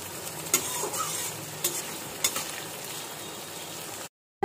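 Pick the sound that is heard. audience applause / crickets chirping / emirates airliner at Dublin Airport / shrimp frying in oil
shrimp frying in oil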